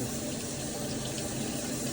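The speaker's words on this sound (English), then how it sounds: "top it off with a little bit more water to make sure they're covered" Water running from a tap to top up a container of peeled eggs, a steady, even rush of flowing water with no break, close and moderately loud.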